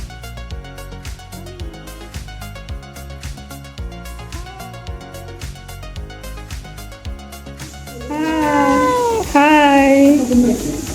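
Cats meow in the cat area of an animal shelter in Taichung. Loud, close, drawn-out meows rise toward the end over a busy background of clicks and tones.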